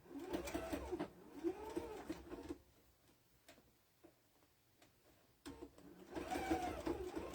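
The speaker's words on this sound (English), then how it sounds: "they said to baste it on, honey, I'm sewing it." A sewing machine stitches a pumpkin-themed tote bag with fast, rhythmic mechanical whirring in several short bursts separated by quiet pauses, close and fairly soft.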